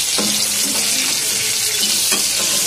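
Ash gourd slices coated in mustard paste frying in a pan, a loud, close, continuous sizzle with a couple of brief spatula scrapes.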